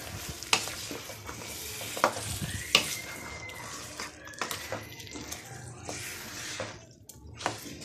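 Mutton masala with tomato paste is stirred in a pan, with wet, squelching spoon strokes and sharp scrapes over a constant sizzle, close and fairly loud, with no talk.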